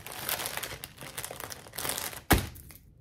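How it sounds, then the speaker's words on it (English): Packaging being crinkled and handled at a sewing table, a few close, papery crackling bursts ending in one sharp snap, with no one talking. "No more crinkling."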